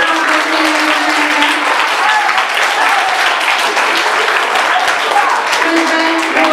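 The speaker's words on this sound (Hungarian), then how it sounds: "És egy nagy tapsot, aki átadott a kérdéseket." Children and staff at a primary school morning assembly clap loudly and continuously, a dense wash of applause with faint voices mixed in throughout.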